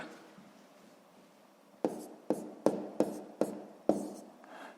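Pen or pencil strokes writing numbers by hand during a sixth-grade math exercise: six distinct scratchy taps in an uneven rhythm, close and clear after a quiet stretch of faint background noise.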